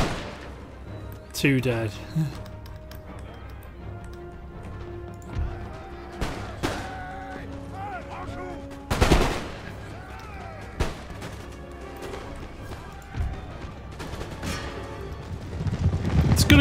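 Artillery and musket volleys in Empire Total War with a French army, heavy booms and crackling shots at irregular intervals over battlefield ambience, with a brief voice speaking.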